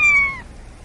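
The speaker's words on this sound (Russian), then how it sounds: "Кто-то мяукает, вот там вот" A single clear meow from a cat heard on a beach, short and fairly close, dropping slightly in pitch before fading into quiet background.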